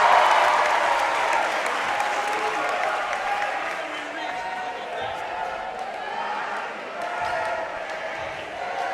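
A crowd at a high school basketball game applauds and cheers in a gym, a steady wash of clapping and voices with an announcer talking over it.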